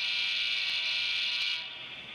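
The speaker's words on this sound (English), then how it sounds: "Pressing this button will sound the horn." Horn on a model railroad train at a club's portable layout, a steady tonal sound held for about a second and a half before dropping off, close and alone with no talking.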